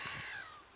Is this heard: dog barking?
no